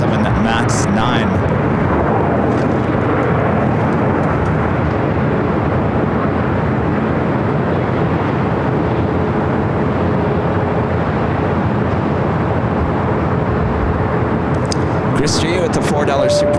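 A WestJet Boeing 737 MAX 9 roars past at LAX with a loud, sustained broadband jet rumble that keeps up from start to finish. Someone is talking over the engine noise.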